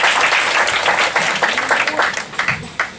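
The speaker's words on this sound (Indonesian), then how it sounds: "tepuk tangan dulu buat Anda semua" A lecture hall full of people applauds steadily, a dense wash of clapping that stays loud before tapering slightly at the end.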